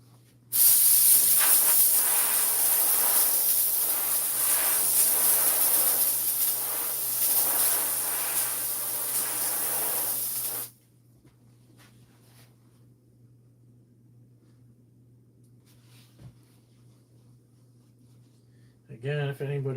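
A garment steamer hisses steadily and loudly while steaming a hat, a broad continuous spray lasting about ten seconds before cutting off abruptly, leaving a low hum and near silence with a brief voice at the end.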